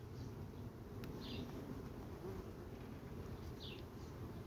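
Honeybees hum at an open hive beside a frame packed with pollen, a soft continuous buzz with a couple of brief close passes, low and steady under light wind noise.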